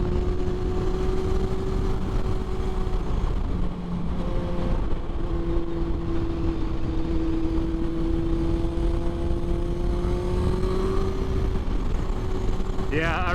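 A 2006 Yamaha FZ6 runs at a steady engine drone while being ridden, with a sustained tonal hum that shifts slightly in pitch. Wind rush sits underneath, and a rider talks over it.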